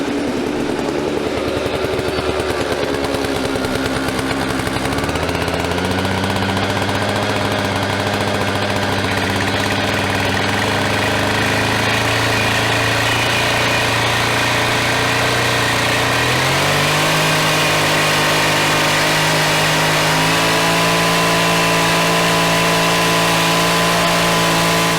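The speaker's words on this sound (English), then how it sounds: "we're gonna go fire up the saw and see if the saw wants to run today" A gas-powered saw runs loudly and close for the whole stretch, a steady buzzing engine drone that holds a tone, then steps up in pitch a few times as the throttle changes, with no voices.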